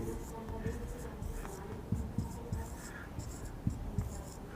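A pen writes questions by hand for a units conversion lesson, with soft scratching and tapping strokes under a steady room hiss.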